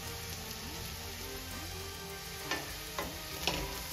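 Onions fry in a pan until brown for egg curry, a steady soft sizzle and crackle throughout, with a few sharper stirring scrapes toward the end; no talking.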